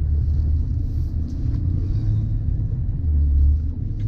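Range Rover Sport spinning its tires in sand off-road, heard from inside as a continuous low rumble of engine and tires with no talking.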